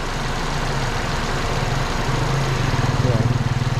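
A vehicle engine idles smoothly and loudly up close, a steady low throbbing hum with a regular pulsing beat growing slightly more pronounced toward the end, no voices over it.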